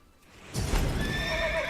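A unicorn in The Witcher 3 lets out a drawn-out neigh that rises after a brief quiet start, loud and close with a whinnying tail.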